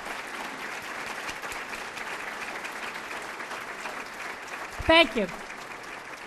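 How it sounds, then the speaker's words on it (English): Broad applause fills a luncheon hall as the trustees stand, a steady wash of clapping throughout, with a brief spoken thanks near the end. "Get a round of applause."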